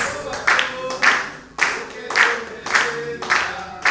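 A church congregation claps along in rhythm, bursts of sharp clapping recurring roughly every half second to second at close range, with singing or a voice running underneath.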